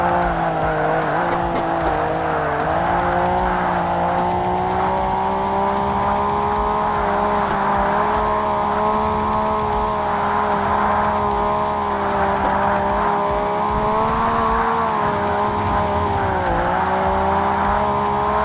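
A Pagani Zonda race car in Forza Motorsport (2005) drones steadily at high revs throughout, a sustained engine tone with slight pitch dips as it shifts, loud and close with no talking.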